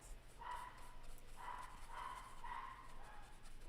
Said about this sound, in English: Like my Chihuahua, he's crazy.